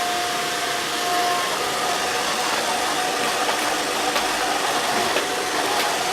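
An Alfawise A6 robot vacuum cleaner mopping, its motor giving a continuous loud whirring hum with a faint high whine, steady and close throughout.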